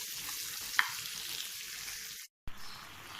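Tomato for lemon rice fries in a pan with a faint, steady sizzling hiss and one small click, briefly cut to silence before the sizzle returns.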